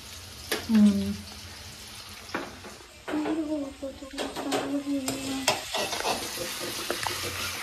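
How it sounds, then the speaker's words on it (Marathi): Vegetable tawa pulao being stirred in a pan over frying heat, with a soft sizzle and scraping spoon strokes. People talk over it at times. "मग ह्याला चांगलं ढवळून घ्यायचं."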